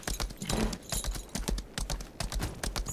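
Rapid, steady clip-clop of horse hooves at a trot in the video game Lost Ark, close and fairly loud, with a faint tapping quality and no talking.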